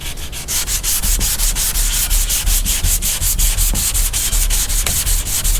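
Sandpaper of 180 grit is rubbed back and forth across a car roof in fast, even strokes, a loud, close, rhythmic scratching that pulses steadily throughout with no talk.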